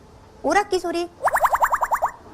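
A child imitates an arcade game machine vocally, a few sliding tones followed by a rapid run of bouncy, boing-like blips, close and alone.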